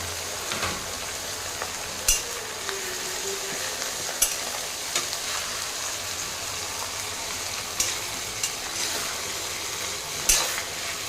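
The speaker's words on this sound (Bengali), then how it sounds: "চলো পেঁয়াজটাকে এখন লাল করে একটু ভেজে নেব।" Sliced onion fries in a pan after cardamom and cloves, a constant close sizzle broken by occasional sharp stirring clacks, with no voices.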